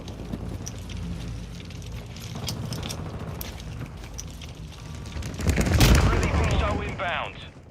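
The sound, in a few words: mortar strike explosions and gunfire from a video game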